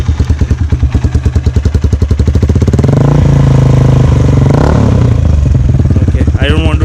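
A custom Hero Impulse 223 motorcycle with its engine running, a loud close thumping idle that is revved up into a sustained roar, then drops back to a lumpy idle.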